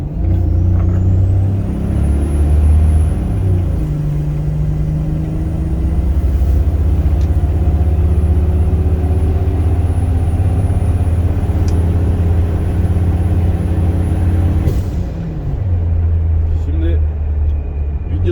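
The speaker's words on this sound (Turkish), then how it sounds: "Ya o turbolu sesi var ya çok tatlı ha." A Toyota Land Cruiser VX80 with a turbocharged 1FZ engine of about 350 horsepower rumbles steadily under acceleration, with a thin high turbo whistle rising early and holding. People talk over the engine noise.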